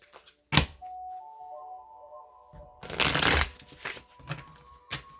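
A Light Seers Tarot deck being shuffled: a few brisk bursts of card riffling and sliding separated by quieter moments, with a soft sustained ringing tone between them, all close and alone.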